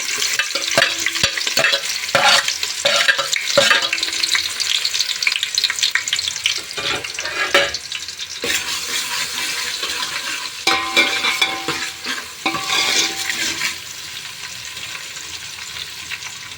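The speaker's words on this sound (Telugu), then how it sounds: "ఆనియన్స్ అయితే ఫ్రై అయ్యాయి ఫ్రెండ్స్." Onions frying in well-heated oil for a chicken-feet rasam, stirred repeatedly: a loud, dense crackling sizzle with scraping stirs, busier at first and then settling into a quieter steady fry.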